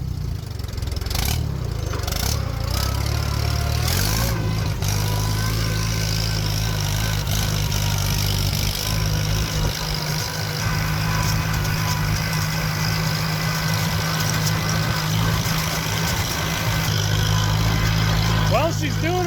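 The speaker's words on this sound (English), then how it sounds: "So let's give her some RPM here." Classic car or tractor engine, tested to see whether it will run, rumbling loudly and continuously at close range with a steady low throb that rises in pitch as the revs climb.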